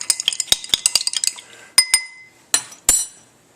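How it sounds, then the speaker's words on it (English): A spoon stirring pancake batter in a glass or bowl, a quick run of bright clinks and taps at close range, then a few spaced louder knocks against the rim. "Let's stir it up, make sure it dissolves."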